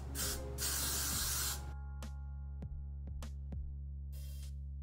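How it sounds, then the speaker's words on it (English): Hairspray hisses from an aerosol can in two long bursts up close, then a few faint clicks and a short final spray. "So I'm just gonna shake it up, spray it on there"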